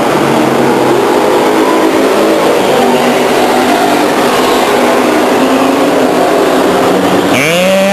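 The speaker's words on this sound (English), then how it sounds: "And Borges will take him down the backstretch" Stock cars racing at Stockton 99 Speedway in 1999 make a loud, dense engine roar close by as the pack thunders past, with a rising whine from a single car near the end.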